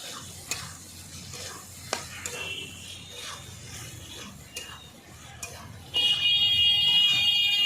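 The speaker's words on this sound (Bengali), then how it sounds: "লঙ্কা বাটা আর রসুন বাটা একসঙ্গে দিয়ে আবার তিন থেকে চার মিনিট ভালো করে কষিয়ে নেব" Chili paste and garlic paste frying in a pan for an eel (kuchia) fish curry, a steady sizzle with scraping stirs and clinks, then a loud bright hiss near the end as more sizzling flares up.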